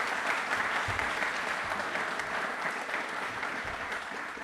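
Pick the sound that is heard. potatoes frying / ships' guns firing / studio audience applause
studio audience applause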